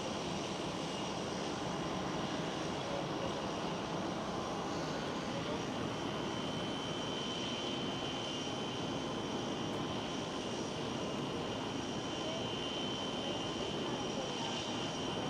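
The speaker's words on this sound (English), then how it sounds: "we see them lining up and rolling down the runway" A jet airliner rolls down the runway at Amsterdam Schiphol airport, heard as a continuous broad, steady engine roar at moderate distance for the whole stretch.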